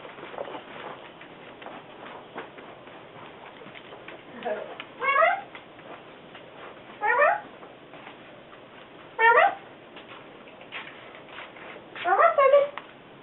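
A cat meows four times at intervals, short rising-and-falling calls, close and fairly clear, while someone talks softly in the background.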